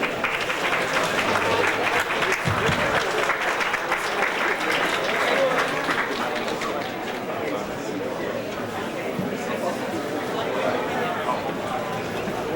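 An audience at an event applauds at moderate volume, the clapping mixed with crowd chatter and murmuring voices that carry on as the applause thins out over the length.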